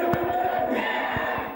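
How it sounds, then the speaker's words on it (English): Angry crowd of protesters shouting at the doors of Parliament, a loud roar of many voices with rhythmic chant-like pulses, close and dense. "An angry crowd pressed against the doors of Parliament"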